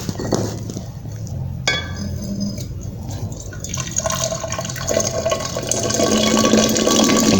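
Water, about 100 ml, poured into a glass container while preparing Benedict's solution, with clinking and liquid filling sounds running steadily and growing slightly louder toward the end.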